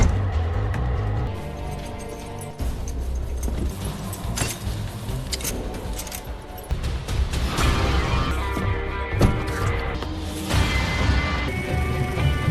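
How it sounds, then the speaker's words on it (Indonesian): Glass cracking and shattering in an action film scene as a swimming pool's glass bottom breaks, heard as loud crashing and smashing amid a dense, booming soundtrack. "Dan saat Adrian berenang, kaca tersebut pecah yang mengakibatkan Adrian jatuh ke bawah."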